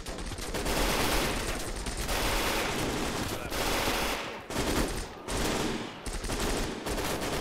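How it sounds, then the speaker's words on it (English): Sustained bursts of MG42 machine-gun fire in the video game Gates of Hell, loud and dense with brief gaps between volleys, set in a German invasion of the Soviet Union battle. "Wow, they got an MG42 out there too."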